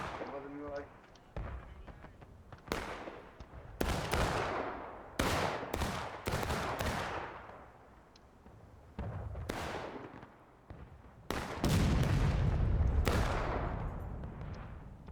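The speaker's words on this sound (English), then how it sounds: "Another shot that came up short from the artillery." Artillery and rifle fire at a Civil War reenactment battle, with loud repeated cannon booms and shots at irregular intervals and a sustained heavy burst near the end, while voices talk over the gunfire.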